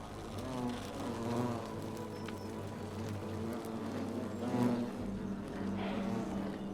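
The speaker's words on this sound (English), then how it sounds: "We are now locked in the temple with an angry hornet's nest." Angry hornets buzzing from a nest inside a temple in a video game, a dense, fluctuating swarm drone with individual insects swelling and fading, fairly quiet overall.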